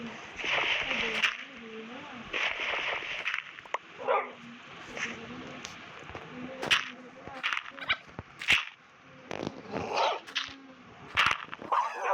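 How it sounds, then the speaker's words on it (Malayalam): Repeated short barks and yips from a dog in the Minecraft video game sound in irregular bursts throughout, with someone talking between and over them. "ഇനി അതൊരു പട്ടി"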